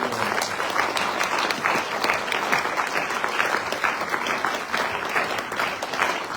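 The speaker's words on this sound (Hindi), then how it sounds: "जोरदार तालियों से स्वागत कीजिए" A conference audience at a direct-selling industry panel discussion applauds steadily, dense clapping holding at an even, fairly loud level throughout with no one speaking.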